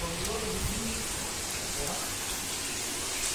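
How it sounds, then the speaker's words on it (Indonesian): Steady rain hisses down heavily and evenly throughout on a flooded Jakarta street, with a faint voice briefly audible underneath at the start. "Hujan nggak ada payung nih."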